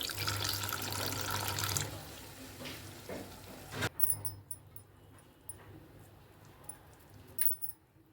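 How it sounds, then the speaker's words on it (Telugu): A small amount of water is poured into a cooking pot of chicken curry, a faint splashing rush for a couple of seconds, followed by light clinks and handling noises. "ఇప్పుడు కొద్దిగా వాటర్ వేస్తానండి ఎన్నో కాదు"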